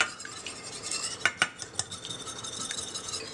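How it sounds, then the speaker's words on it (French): An egg being stirred into apple cake batter with sugar in a bowl, heard as close scraping and stirring with a few sharp clinks of a utensil against the bowl, and no talking. "Ensuite, on rajoute un œuf. Et on mélange."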